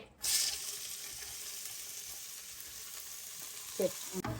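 Chopped onions sizzle and fry steadily in a pan for mutton biryani, a continuous bright hiss at close range, with a couple of brief clinks or stirring knocks near the end.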